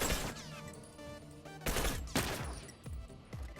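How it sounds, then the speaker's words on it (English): Shotgun blasts in a 1v1 video game match, several sharp booming shots with gaps between them, loud and close over a busy game background. "Rushing with the shotgun. Blam!"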